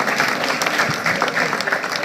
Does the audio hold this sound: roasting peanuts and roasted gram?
no